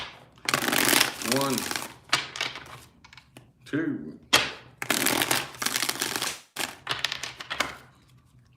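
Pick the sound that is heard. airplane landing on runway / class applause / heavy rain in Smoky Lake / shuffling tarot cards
shuffling tarot cards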